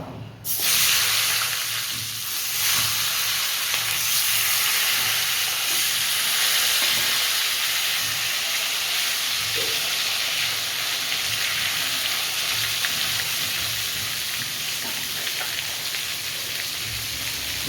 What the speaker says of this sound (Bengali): এই তেলে আমি বেগুনগুলো ভেজে নেব।